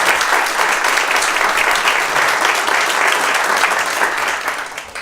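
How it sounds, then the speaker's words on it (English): A conference audience at a tech talk in Rhode Island gives a round of applause, dense, steady clapping from many hands that holds evenly and then begins to taper off at the end. "I just want to do a round of applause"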